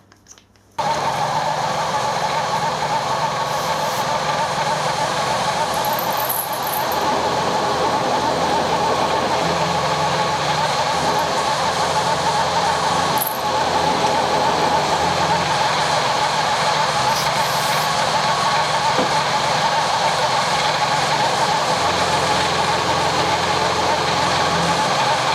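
A small electric motor, temporarily mounted as a mill quill power feed, runs with a steady, loud whirring drone after a brief start, continuing evenly throughout.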